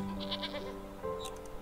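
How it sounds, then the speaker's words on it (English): Mountain goat in the video game Wytchwood, a short faint bleat with a couple of brief tonal chirps over a soft ambient game music bed. "mountain goats digging for lichen nearby."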